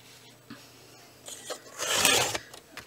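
A paper trimmer slices through card stock for a pop-up card base, giving a short close rasping cut that swells and peaks near the middle after a few faint taps and handling noises.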